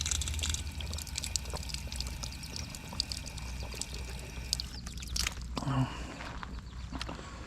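Creek water gushes out of a drain in a steady, splashing stream, close by and continuous, with a few scuffs and knocks nearby.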